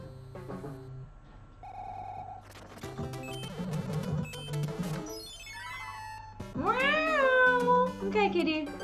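A house cat meows several times indoors, rising and falling cries near the close, mixed with chiptune video game music and a person talking.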